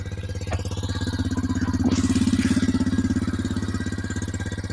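A Taro GP 1 superbike's exhaust burbles at a steady idle close up, its rhythmic low pulsing swelling slightly in the middle as the throttle is blipped, with no voices.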